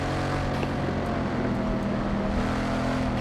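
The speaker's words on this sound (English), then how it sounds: "And those turbos whining." A turbocharged car in Forza Motorsport 7 drones steadily with a thin sustained whine over engine rumble, continuous and fairly loud, no talk.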